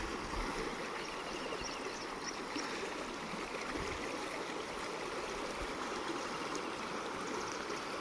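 The Girna river runs out from the full Girna dam in a constant, even rush of flowing water, moderately distant and unbroken.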